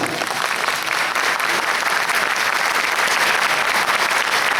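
Sustained applause from a theatre audience at a comedy show in Nivelles, steady and dense for the whole stretch.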